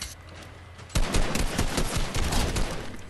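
Sudden automatic gunfire in Fortnite breaks out after a quiet start, a dense stream of loud rapid shots continuing to the end.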